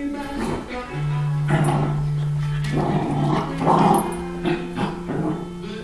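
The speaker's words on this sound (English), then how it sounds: "let's do some pooly schmoodly barking." Several small pet dogs barking playfully in bursts, with yips, whimpers and growls close by, while a person coos and talks to them between barks.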